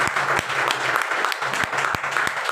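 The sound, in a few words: audience applause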